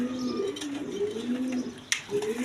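A pair of Spanish pigeons coo close by in a series of low, throaty, wavering calls, with a brief sharper rustle or flutter near the end.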